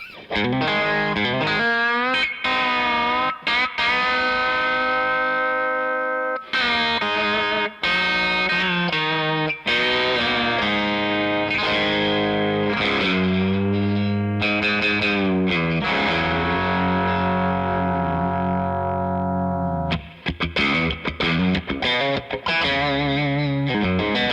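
Electric guitar run through two Jackson Audio compressor pedals, both switched on, playing a sustained, distorted phrase with chorus-like shimmer; loud and continuous with brief pauses between chords.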